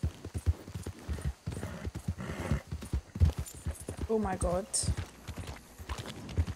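A horse's hooves clip-clop in Red Dead Redemption 2 under a man's close, continuous talking, with a short whinny in the middle of the stretch.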